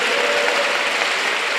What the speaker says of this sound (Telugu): నమ్మిన వారు గట్టిగా చప్పట్లు కొట్టండి.